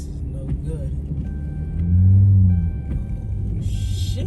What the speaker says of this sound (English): Oh, my car's spinning.